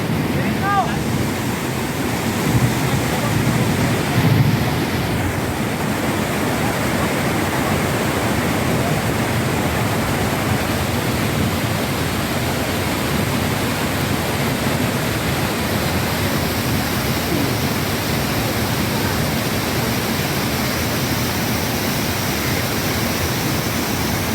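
Flooded Taytay Falls roaring with high water, a loud steady broadband rush of falling water and spray that stays constant throughout, with wind buffeting the microphone.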